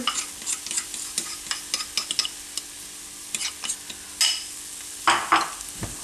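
Chickpea flour wrap batter poured into a pan, with a soft sizzle under a run of light scraping and stirring clicks, ending in a couple of louder spatula scrapes close by.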